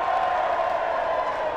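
Rugby fans at Kingston Park during a Newcastle versus Northumbria match keep up a continuous, loud crowd roar of cheering that holds steady throughout.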